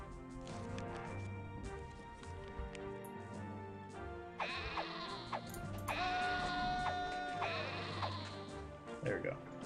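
Sheep in a Roman-era strategy game bleat several times in overlapping calls over game sound effects and background music, heard at moderate loudness.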